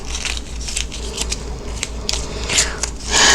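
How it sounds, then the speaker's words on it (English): Scissors trim a small piece off a pressed flower, giving several quick crisp snips and light papery crackles, close and fairly soft, spaced irregularly with a louder rustle at the end. "Just going to trim that off."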